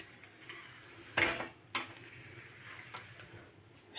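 Metal utensils clatter faintly while a dish stand is cleaned after washing up, with two brief clanks standing out against a quiet room.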